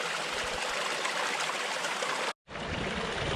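A mountain stream rushes steadily on a trail near Mount Rainier as a filter water bottle is filled, close broadband flowing water with a sudden brief cutout before the flow resumes.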